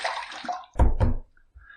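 Water splashes in quick bursts near the face at a sink after a razor shave, a couple of close wet slaps and a short trickle, no voices.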